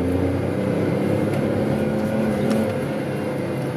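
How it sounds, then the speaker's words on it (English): VW Polo with a faulty camshaft position sensor accelerating at full throttle in first gear, its engine holding a steady strained drone as it hits the rev limit around 4,500, fairly quiet and continuous with no talk. "So this is acceleration in first gear at full throttle."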